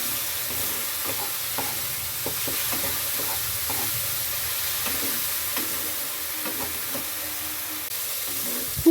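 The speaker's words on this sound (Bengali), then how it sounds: "এবারে দিয়ে দিচ্ছি 1 চামচ আদা আর রসুন বাটা। ভালো করে কষিয়ে নিচ্ছি।" Ginger and garlic paste sizzles and fries in a pan while being stirred, a steady close hiss broken by repeated scraping strokes of the spoon, with no voices.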